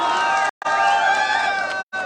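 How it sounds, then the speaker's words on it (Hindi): A crowd at a college political event, Maharani College, cheers and whoops loudly with sustained shouted tones, breaking off in two short gaps. "एक बार जोरदार तालियां होनी चाहिए।"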